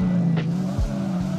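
Drift car in Drift 21 pulling hard in second gear, a loud steady engine drone with a brief gear-change dip and low thumps, no talking.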